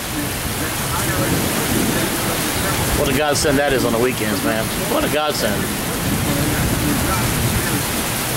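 Steady heavy rainfall outside on a stormy night, a continuous loud hiss filling the background while someone talks briefly over it.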